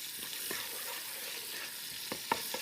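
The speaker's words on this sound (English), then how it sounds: "let me add my dried thyme first, and 1 clove of garlic chopped. Stir that around." Dried thyme and chopped garlic sizzle steadily in a pan with a broad, continuous hiss, broken by a few sharp scraping knocks of stirring near the end.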